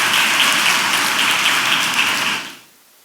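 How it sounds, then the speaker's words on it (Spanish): Dense congregational applause fills a church hall during a Spanish-language service, a steady wash of many hands clapping before cutting off sharply near the end into quiet. "Dale un aplauso al Señor en esta maravillosa tarde"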